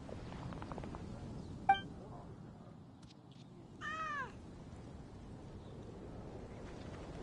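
A pet cat named Paisley gives a single short, clear meow at moderate distance, rising then falling, over a quiet room hum, with a brief sharp knock just before it.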